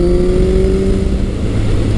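A motorcycle engine while riding, a steady loud low drone with a sustained tone holding near constant pitch, no talk.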